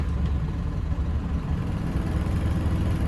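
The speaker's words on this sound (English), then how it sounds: "a wee bit vibrating at idle, so we'll just give a wee bit of revs, get the vibration out of it." A MerCruiser 2.8-litre turbo diesel sterndrive idles aboard a boat with a slight vibration, giving a steady, close, low rumbling drone that holds even throughout.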